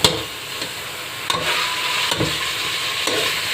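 Coarsely chopped medium onions hiss in a hot pan while chicken shami kabab is being made, a loud, steady sizzle punctuated by a handful of spoon scrapes, with no talking.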